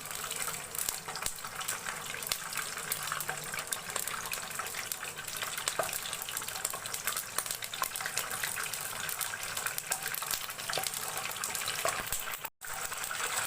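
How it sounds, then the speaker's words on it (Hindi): Kachoris, some filled with minced meat and some with potato, sizzle and hiss steadily in hot oil in a home kitchen, a dense continuous frying sound with no talking. "ऑयल गर्म हो गया तो उसके अंदर हम डालते जाएंगे।"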